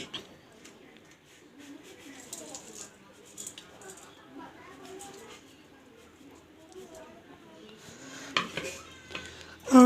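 Spices are stirred into mango pickle in a pan, giving soft scraping and light clinking of a spoon against metal, with a sharper clatter near the end; a voice talks quietly underneath.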